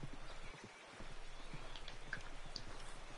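Horse hooves clip-clop in steady rhythm in the Red Dead Redemption video game, moderately loud and close, with a faint rain-like hiss underneath and no talking.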